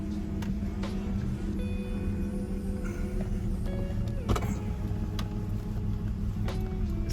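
A BMW E46 325xi idles with a cylinder 4 misfire, a steady low engine hum with faint uneven ticks and a few sharp knocks, recorded close with no talk.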